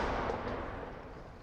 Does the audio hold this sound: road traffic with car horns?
no